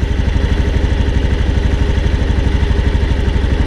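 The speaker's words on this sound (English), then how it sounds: "That's it. Engine is on." A kickstarted scooter engine idles loudly and close, with an even, rapid putter that holds steady from start to finish, no voices.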